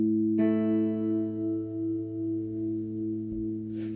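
A guitar plays a sustained chord during a song lesson, struck once and left ringing with a steady tone that slowly fades, clean and fairly quiet with a small knock near the end.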